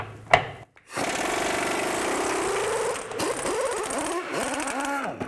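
A power tool with a 21mm socket whirs as it removes the bolt of a front lower control arm on a 2011-2014 Chrysler 200, loud and close after a sharp knock and short pause, its pitch rising and dipping.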